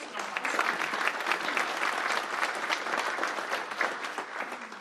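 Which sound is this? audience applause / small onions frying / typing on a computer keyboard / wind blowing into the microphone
audience applause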